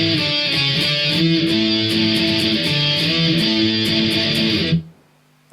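Electric guitar with a distorted tone plays a quick pre-verse riff of octave shapes from a song, loud and steady with even strums, alone without talk, cutting off abruptly near the end.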